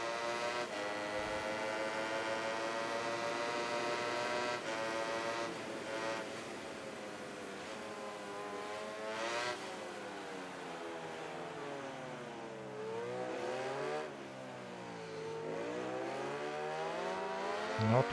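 A Ducati MotoGP bike engine in the MotoGP 19 video game drones steadily, with a continuous rising and falling harmonic whine as the revs shift through gears, fairly quiet and sustained throughout.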